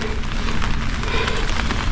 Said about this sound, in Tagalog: O di ba, maulan. Blessing ang ulan.